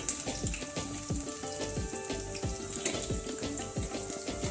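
Potato pieces fry in hot oil in a pan with a dense, crackling sizzle, while rapid irregular pops and spits sound throughout, close and fairly quiet with no talking.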